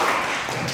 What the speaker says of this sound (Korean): 힘찬 격려의 박수